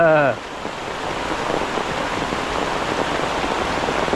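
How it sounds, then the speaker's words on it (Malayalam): Heavy monsoon rain in Kerala pours in a dense, even hiss, loud and continuous, after a short voice at the very start. "അടിപൊളി മഴയാ അതെ സൂപ്പർ മഴ ഇടിവെട്ട് മഴയാ"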